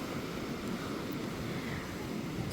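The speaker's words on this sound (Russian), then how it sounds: "Волны еще большие." Big waves wash onto a Black Sea beach under strong wind, a broad steady roar of surf and gusts with no distinct breaks, fairly soft and distant, with no talking.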